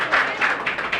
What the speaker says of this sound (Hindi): कुमकुम सिंह के लिए जोरदार हो तालियां